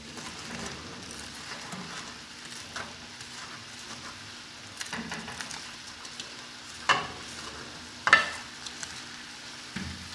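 Chicken and vegetables cooking in a pan for sweet and sour chicken: a soft, low sizzle broken by occasional louder scrapes and knocks of stirring.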